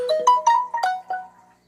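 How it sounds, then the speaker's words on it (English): A phone's text message alert plays as a short melodic chime of about six bright tonal notes in quick succession, close and clear, fading out after a second and a half with no talking. "Sorry, text message."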